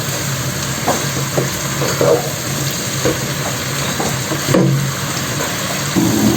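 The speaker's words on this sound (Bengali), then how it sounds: "আর পেঁয়াজ আর রসুনটা তো ভেজে ভেজে নিয়েছি সব কিছু আমি এবার এই মশলার সাথে একটু ভেজে নেব" Onion, garlic and spices fry in a pan with a steady, close hiss of oil. Soft scraping and stirring knocks rise now and then over the sizzle, and no one speaks.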